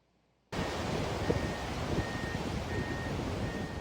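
Rough, choppy sea off Botolan, Zambales surrounds the sinking tugboat Sualwan, a steady close roar of surging water and wind that starts abruptly and washes on without pause, with a faint intermittent whistle-like tone above it and no voices.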